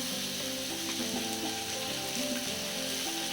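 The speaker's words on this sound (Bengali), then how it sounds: "এবার আমি এই তেলটার মধ্যে পেঁয়াজগুলো দিয়ে দিলাম" Finely chopped onions hit hot oil already spiced with cardamom, giving a steady, close, dense sizzle that holds throughout, with a faint tonal melody running underneath and no talking.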